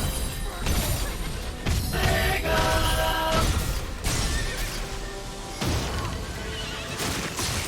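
A horse neighs repeatedly amid combat in the video game Stranger of Paradise, its loud whinnies mixed with crashes, heavy impacts and thuds.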